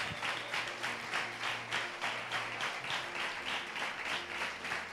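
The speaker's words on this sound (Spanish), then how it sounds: "Alguien tiene que aplaudir a Dios esta noche" A church congregation applauds during an evening service, a sustained wash of clapping pulsing in steady rhythmic bursts, with musical tones underneath.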